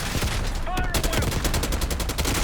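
Gunfire in the video game Call of Duty Black Ops 6, a dense, loud fusillade of rapid machine-gun bursts hammering in quick rhythm, with a brief shout breaking in early on.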